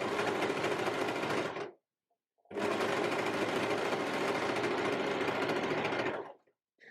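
Sewing machine stitching a straight seam on fabric for a costume, a loud, close, fast mechanical whir in two bursts separated by a brief pause.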